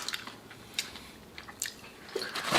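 A Wendy's spicy jalapeño popper chicken sandwich and pub fries are bitten and chewed up close, with soft crunches and moist chewing in short, irregular bursts.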